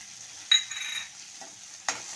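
Roasted chana dal being sautéed in a pan for a red chutney: a soft, quiet stir with two brief scraping bursts, no voices.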